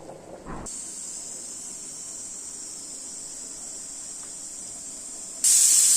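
A closed pressure cooker holding rajma masala rice gives off a thin, steady, high hiss of escaping steam for several seconds, which suddenly grows louder and harsher at the end.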